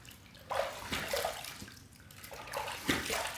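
Water sloshes and splashes in a sink as something is rinsed by hand, with irregular nearby swishes and trickles at moderate volume.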